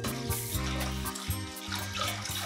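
Water poured into a sugar and cornstarch mixture while whisking for a lemon meringue pie filling, a steady close splashing stream running throughout with a low ringing hum beneath.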